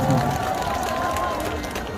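An outdoor crowd at a trot music festival in Mungyeong applauds in the rain, a steady, broad patter of clapping from many people that fades slightly toward the end, with a host's voice over it.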